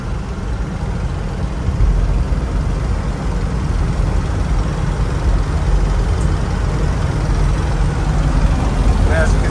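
A 1967 Chevrolet K10 Suburban, original and warming up after a cold start, drives along with a steady, loud low engine drone and road rumble that holds evenly throughout, with no voices.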